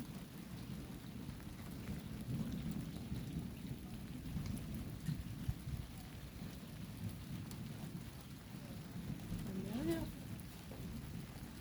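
A strong thunderstorm at Montady on a June evening, with continuous rain pouring down and low rolling thunder rumbling through a dense, steady wash of sound, brief faint noises surfacing near the end.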